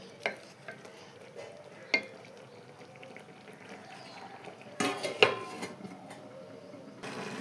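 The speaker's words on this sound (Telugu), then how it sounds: "ఇవన్నీ వేసి ఒకసారి బాగా కలుపుకోవాలి." A spoon stirs a tomato and mint chutney mixture in a pan, giving a quiet sizzle under scattered scrapes and a few sharper clanks against the pan, with no talking.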